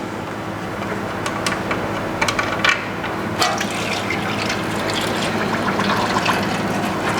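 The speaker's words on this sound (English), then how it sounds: "Get our oil draining" Engine oil drains from the drain plug of a Subaru Outback H6 into a pan, a continuous close trickling pour with a few brief clinks and splashes along the way.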